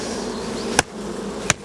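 Honeybees buzz in a steady, close drone as they are shaken off a blackened comb at a hive, broken by two sharp knocks.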